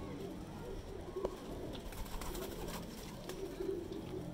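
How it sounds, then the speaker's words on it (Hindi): Salara pigeons in a breeder's loft coo softly, several low, rounded calls spaced through a few seconds under faint background noise. "अभी देखें ये सलारा कबूतर है"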